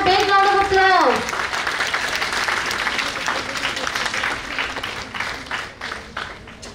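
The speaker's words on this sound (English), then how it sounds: "Please give them a big round of applause." An audience at a college India-Japan festival claps steadily at a stage welcome, and the applause fades gradually. A brief tonal voice or sound rings out over the opening second.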